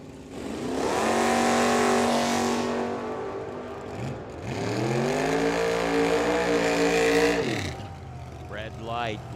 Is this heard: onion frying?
no